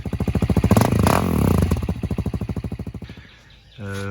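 Husqvarna 701 Enduro single-cylinder engine fitted with a Wings exhaust, idling and blipped up close with a loud pulsing throb that swells, settles back to a steady beat, drops briefly, then revs again.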